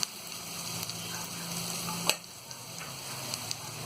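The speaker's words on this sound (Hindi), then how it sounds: "अदरक और लहसुन के पेस्ट को भूनने के बाद में अब इसमें हम ये हल्दी पाउडर" Ginger-garlic paste with turmeric and other ground spices sizzling and frying in a pan, a steady close hiss with faint crackles and one sharper pop midway.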